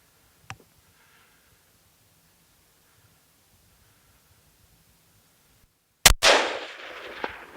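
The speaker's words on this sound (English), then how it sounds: "We just shot a nice bull, Keith." A single loud, sharp rifle shot fired at a bull on a hunt, cracking out after a long near-silent wait with one faint click early on, then ringing off in a noisy decaying tail.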